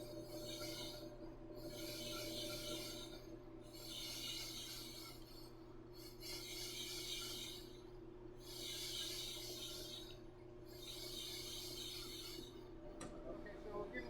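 A brake lathe cuts a rotor, a steady machine hum under a rhythmic rasping scrape that comes and goes about every second and a half as the rotor turns, close and even.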